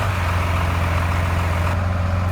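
An engine idles steadily nearby, a low, even rumble holding constant for a couple of seconds with no voices.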